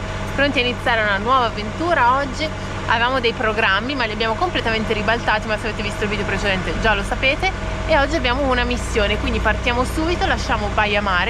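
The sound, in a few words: van engine rumbling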